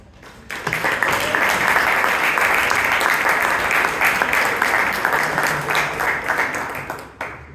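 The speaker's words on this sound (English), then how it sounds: "Let's give us a huge round of applause." Sustained applause from an audience at a Toastmasters club meeting in Bangalore, a dense, even wash of clapping lasting about seven seconds before tapering off.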